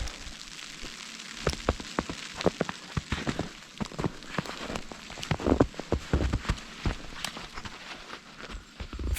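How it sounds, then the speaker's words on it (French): Sleet falls on a winter campsite in Québec, a dense irregular patter of sharp ticks and taps on nearby surfaces that sounds like heavy rain and keeps going without pause. "On avait vraiment l'impression que c'était de la grosse pluie finalement. C'est du grésil."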